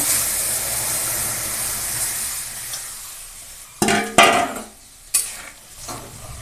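A hot spice and chili tempering hisses steadily, then lentil dal is poured in, setting off several loud bursts of sizzling steam that flare and fade in quick succession.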